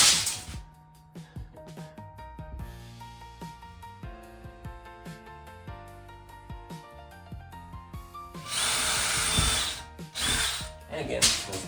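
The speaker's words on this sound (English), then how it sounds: "Here's the part where I look for my drill." A power drill bores into a wall during a DIY studio upgrade, running in two loud, steady bursts near the end over background music.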